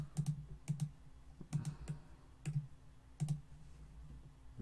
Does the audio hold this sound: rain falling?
no